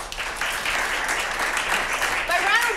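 An audience at a comedy show claps and cheers in a steady burst of applause that swells toward the end, with a few whoops rising above the clapping.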